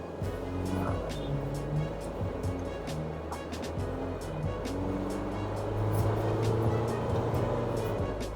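A 2021 GWM Poer pickup truck accelerates in sport mode, its engine a low steady drone rising in pitch in stages from inside the cab, with a brief bit of talk over it.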